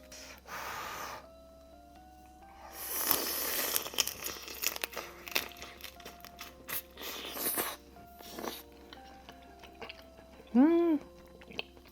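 Close, crunchy biting and chewing of spicy blue crab from a crab stew, with crinkling shell, wet sucking and slurping in irregular bursts, and a short vocal exclamation near the end.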